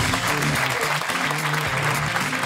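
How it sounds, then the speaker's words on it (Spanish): Short burst of full studio-audience applause on a comedy talk show, steady and close throughout, with a low musical pattern running underneath. "un aplauso para tu abuela en memoria."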